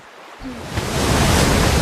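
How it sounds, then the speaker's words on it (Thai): Ocean surf surges in and swells into a loud, broad, hissing roar of crashing water, building steadily from near silence and holding at full strength with no voices. "เดี๋ยวผมไปเอาคลื่นมาให้ครับ"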